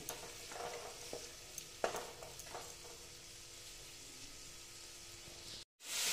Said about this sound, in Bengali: এইবার যে আমি মশলার পেস্টটা আমি এখানে দিয়ে দিলাম, দিয়ে আবার ভেজে নিচ্ছি।